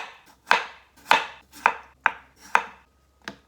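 Peeled potatoes sliced very thinly with a knife on a board, six crisp, evenly spaced chops close up with quiet gaps between them.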